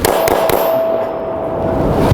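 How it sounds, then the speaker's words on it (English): Three sharp pistol shots from a concealed carry handgun fired while lying on the ground, evenly spaced in quick succession at the start, with a faint last crack near the end over steady outdoor wind. "draw my pistol and get 3 shots on target"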